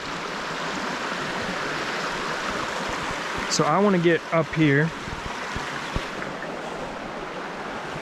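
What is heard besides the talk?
shallow moving stream water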